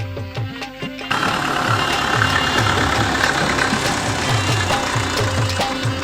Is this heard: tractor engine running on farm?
yes